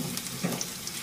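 Masala fries and sizzles in a pan for a king fish curry, a soft, steady crackle at low volume with a few faint pops.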